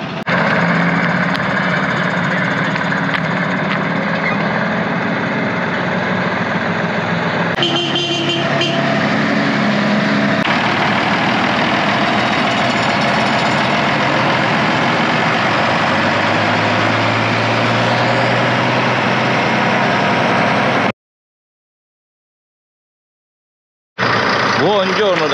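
A camper van's engine idles in a parking lot at a camper show, a continuous loud low-pitched drone that runs steadily for about twenty seconds before a brief silence, then resumes.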